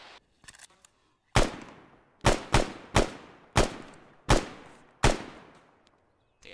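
Gunshots in the military game Arma 3 at night, seven loud separate cracks, each followed by a short echoing tail, spaced irregularly about a second apart with a few fainter pops before them.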